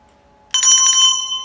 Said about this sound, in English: the teacher rings the bell